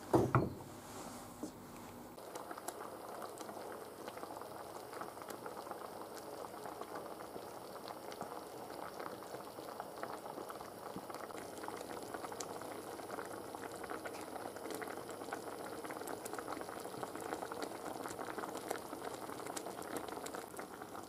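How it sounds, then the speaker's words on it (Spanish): A pot of stuffed piquillo peppers bubbles on the stove, a soft, continuous boil of fine popping and gurgling that carries on steadily after a brief clatter at the start. "Ahora hay que ponerlo al fuego durante 10 minutos, cuando empieza a hervir."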